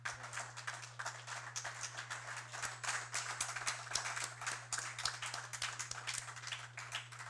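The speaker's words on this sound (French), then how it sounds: "merci à vous, cher public, d'avoir applaudi Néhémie pour sa présentation assez succincte" Audience applause following a short talk at a café philosophy gathering, steady dense clapping lasting throughout, heard at moderate distance over a constant low electrical hum.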